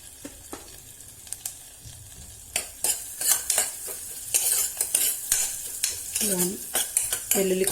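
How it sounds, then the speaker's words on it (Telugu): Garlic frying in butter in a kadai, a soft sizzle that grows louder after the first few seconds, broken by sharp clinks and scrapes of a utensil stirring against the pan. "వెల్లుల్లి కొంచెం ఫ్రై అవ్వనివ్వాలి."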